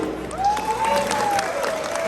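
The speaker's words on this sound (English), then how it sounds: "please give a big round of applause to Congresswoman Michelle Steele" Audience applause at a 35th anniversary event for Little Saigon in Orange County, California, greeting a congresswoman; steady crowd clapping with a few cheers runs throughout, under a held tone, with no speech.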